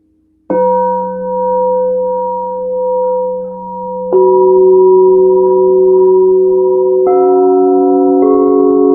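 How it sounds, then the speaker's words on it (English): A crystalline sound for meditation holds pure, ringing sustained tones. New pitches enter in steps and layer over a steady low drone, clear and loud, with no voices. "And then we'll do a few minutes of this crystalline sound."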